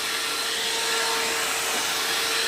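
Steady loud whoosh and motor whine of a hair dryer blowing out natural hair, constant and close for the whole stretch with no talking.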